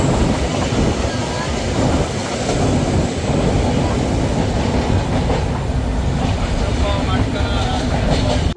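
A Silkcity Express passenger train running in Bangladesh near Joydebpur gives a loud, steady rumble with rail clatter and some wind buffeting, continuous throughout.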